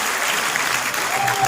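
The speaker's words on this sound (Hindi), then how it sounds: "महानूर के लिए भरपूर तालियां बजाइए" Brief burst of enthusiastic audience clapping in Al Hamra Hall, Lahore, a dense, even patter of many hands heard close and at a steady level.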